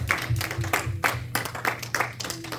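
A church congregation applauds during a Sunday praise and worship service, with dense clapping running steadily throughout, voices and music mixed underneath.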